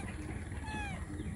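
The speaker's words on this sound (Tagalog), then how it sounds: "Maliit na pusa" A small cat, likely a kitten, gives a thin, high meow amid steady background noise, brief and fairly faint, in a rural province.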